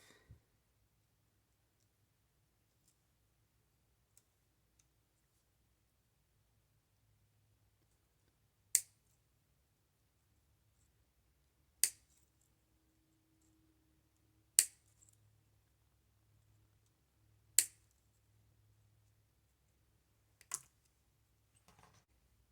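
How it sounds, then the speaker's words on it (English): Wire snips cut through thin wire for a Dollar Tree rustic chicken coop craft. Five crisp, quiet clicks come a few seconds apart in an otherwise still room. "So I'm going to go ahead and snip this off."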